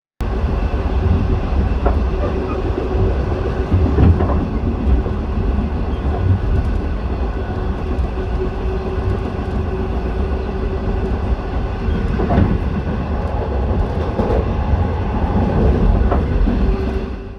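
A V/Line passenger train hauled by N class locomotive N453 departs and rumbles past steadily, wheels clacking over rail joints, loud and close for the whole stretch, with no voices.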